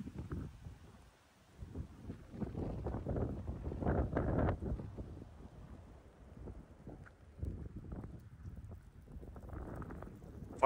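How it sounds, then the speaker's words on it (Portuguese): Strong wind on the Seven Lakes Road in Patagonia, buffeting the microphone in uneven low gusts that swell and fade, fairly faint with no one talking. "um vento forte, ó."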